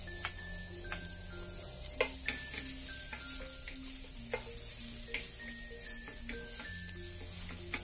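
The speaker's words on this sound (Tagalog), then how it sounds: "nagpainit lang po ako ng ating kawali. Gisa na natin ng ating bawang" Garlic sautés in a hot kawali for beef broccoli, a steady close sizzle broken by repeated clacks and scrapes of stirring, with no talking.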